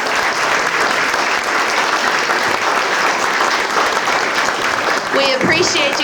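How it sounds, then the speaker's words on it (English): A lecture audience applauding steadily and loudly throughout, with a few cheers rising near the end. "Let's give him another round of applause."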